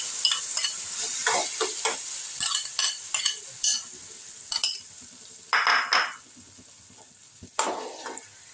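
Mango pulp is stirred in hot oil with panch phoron for mango jelly. A spatula scrapes in irregular strokes over a quiet sizzle, with a few louder scraping bursts near the end.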